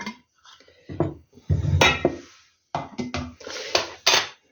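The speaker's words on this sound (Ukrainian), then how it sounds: "Одну баночку наляла, таку повну, повну вверх накриваю кришкою" A lid is set onto a glass jar filled to the brim with tomato juice, producing a close run of glassy clinks, knocks and clatters in short irregular bursts with quiet gaps between.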